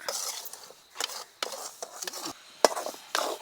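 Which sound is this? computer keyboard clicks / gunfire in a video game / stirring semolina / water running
stirring semolina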